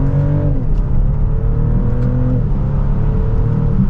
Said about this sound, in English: With that hybrid system pushing over 500 pound-feet of torque, you pretty much have that instantly when you give this gas.